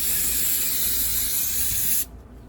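A dropped part is sprayed clean with an aerosol, giving a loud, steady close hiss for about two seconds that stops abruptly, leaving a quiet room.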